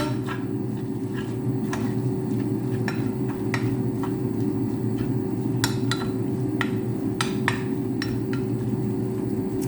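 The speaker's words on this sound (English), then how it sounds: "Just using a small saucepan for this little bit of savoury mince that I'm making." Savoury mince cooking in a small saucepan, a constant low hum and simmer with repeated sharp metallic taps and scrapes of a utensil against the pan, fairly close.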